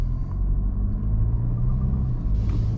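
A 2022 Mercedes C-Class All-Terrain accelerates, heard as a steady, loud, low engine and road rumble from inside the car with no voices.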